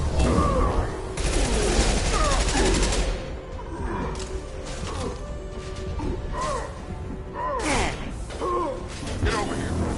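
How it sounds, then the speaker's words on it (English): Bursts of gunfire crackle through a firefight in the video game Mass Effect 2, rapid shots and impacts layered with combat chatter and voices talking over the battle. "Taking fire."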